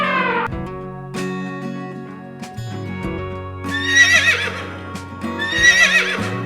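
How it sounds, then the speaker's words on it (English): A horse whinnies loudly twice, each neigh a shrill, shaky call, over a steady musical backing. "Horse neigh."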